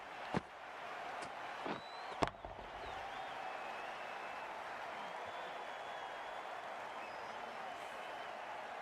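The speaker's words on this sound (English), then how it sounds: "The crowd are loving every minute of this game." A cricket stadium crowd in Cricket 22 keeps up a steady, distant roar of cheering throughout, with a few sharp knocks early on.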